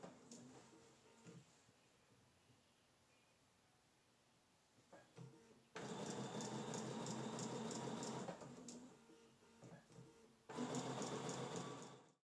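Sewing machine stitching curved seams in jersey fabric, two sustained bursts of fast, even motor whirring and needle rattle, separated by a short pause, after a quieter start.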